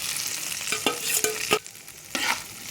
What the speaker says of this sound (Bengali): একটু ভালো করে নাড়াচাড়া করে নিচ্ছে এটাকে একটু ভেজে নিচ্ছি